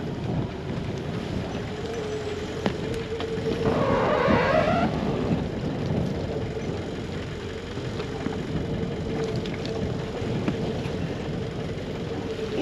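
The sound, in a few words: yacht engine running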